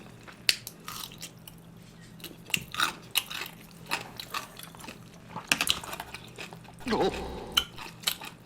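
Close-up chewing and biting on Korean blood sausage (sundae) dipped in dadaegi spicy paste: soft wet bites and smacking in irregular bursts, with a louder squelchy chew near the end.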